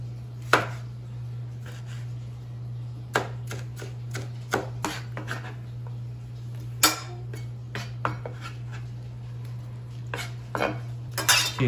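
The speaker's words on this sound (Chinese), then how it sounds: "然後切咗啲番茄。" Knife chopping tomatoes on a cutting board in a home kitchen, a series of irregular sharp close taps and knocks over a constant low hum, no talk.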